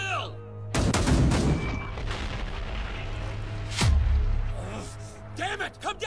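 Gunfire and explosions erupt in an anime battle scene, dense volleys and booms bursting loud and near, then shouted voices rising over the din near the end.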